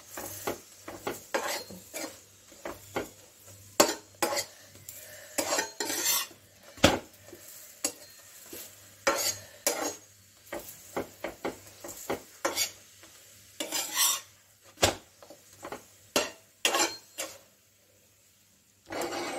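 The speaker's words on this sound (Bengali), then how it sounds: "এই পাশটা একটু ভাজতে হবে, আর একটু চাপ দিতে হবে।" A paneer paratha fries in a pan while being pressed down, a low sizzle broken by frequent sharp scrapes and clatters of a spatula against the pan in uneven bursts.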